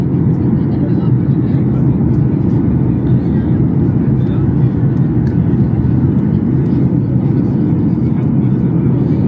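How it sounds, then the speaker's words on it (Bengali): A landing airplane fills the space with a loud, steady low roar of engines and rushing air that holds constant from start to finish. "এইভাবে হচ্ছে বিমানটি ল্যান্ডিং করবে"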